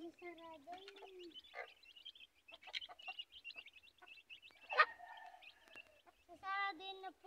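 Chickens cluck and call while feeding, with scattered short clucks and a few longer squawks, fairly faint and close, with quiet talk mixed in.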